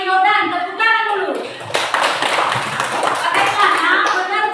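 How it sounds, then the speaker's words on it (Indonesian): A primary school class clapping hands in a Christian religion lesson, a burst of group applause that begins after a brief tonal sound and continues loud and close, with some voices mixed in. "Tepuk tangan dulu."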